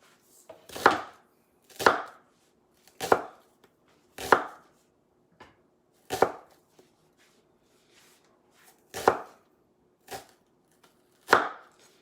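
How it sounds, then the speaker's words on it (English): A knife slices through onions on a board for BBQ cheddar pork burgers, about nine separate crunchy strokes at a slow, uneven pace with short quiet gaps between them, close and clear with no talking. "We're just going to slice our onions"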